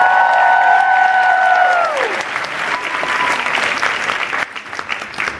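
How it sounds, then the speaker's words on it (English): Loud audience applause and some cheering for a sound engineer at a fan event, with a sustained tone sliding downward early on, then continued clapping that thins toward the end. "Give him a round of applause"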